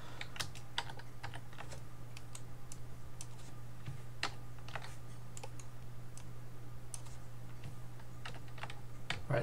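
Keyboard shortcuts are tapped out on a computer keyboard in quick, irregular clicks over a steady low electrical hum, close and clear with no talking.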